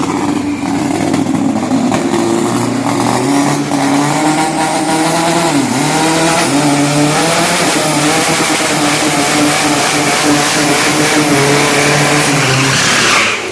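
An Unlimited Diesel drag racing car accelerates down the strip, its engine a loud, close, sustained roar with strong harmonics and one quick pitch dip before it keeps pulling hard.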